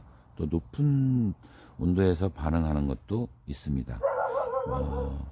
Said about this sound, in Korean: 저희 강아지가 왜 이렇게 짖지?